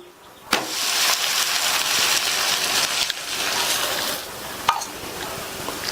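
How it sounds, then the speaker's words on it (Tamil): An onion masala dosa turned over on a hot griddle, with a sharp clack of the flip followed by a loud, sustained oily sizzle and another spatula tap near the end. "இப்போ தோசை அந்த சைடு வெந்துருச்சு, திருப்பி போட்டுடலாம்"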